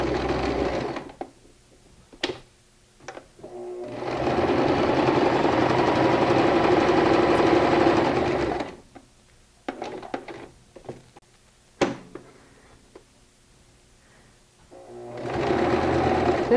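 A sewing machine stitches and back stitches fabric in a long, steady whirring run for about five seconds, with quieter clicks and handling noises before and after and another run starting at the end.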